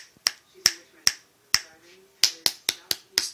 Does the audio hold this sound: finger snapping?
yes